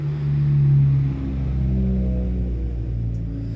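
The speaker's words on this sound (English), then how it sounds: "there's a car coming past" A car passing outdoors near a small stadium, heard as a steady low rumble that swells slightly and then holds on, with no talk over it.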